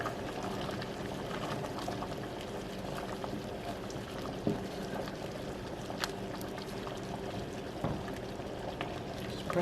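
Peanut butter stew bubbles in a pot on the stove under a continuous soft simmering wash. A few faint knocks and scrapes come from the stirring spoon, and no one speaks.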